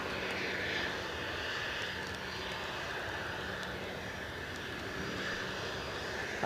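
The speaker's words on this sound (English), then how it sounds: "And then we've got a Loganair going out to Bergen" Outdoors at Edinburgh Airport, a Loganair airliner departs for Bergen. Its engines give a steady, broad roar that holds at an even level throughout, with no voices over it.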